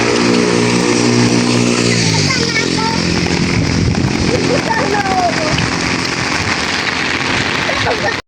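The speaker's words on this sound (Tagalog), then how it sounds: "at lumakas po yung ulan" Heavy rain pours down and builds in strength, a loud, dense hiss of water drumming on surfaces, with a vehicle engine droning underneath at the start.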